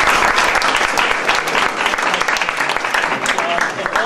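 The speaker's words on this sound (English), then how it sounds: "he certainly deserves a round of applause" Loud, dense audience applause at a Robert Taft Club political gathering, steady clapping filling the room without a break and without clear talk over it.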